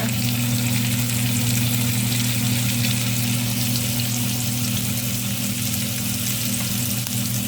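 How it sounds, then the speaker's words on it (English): Peppers and onions frying in a hot pan at home, a loud, continuous sizzle and crackle that holds steady without pause and with no voices. "get it in the pan. And then you're going to want to put the peppers in first and the onions"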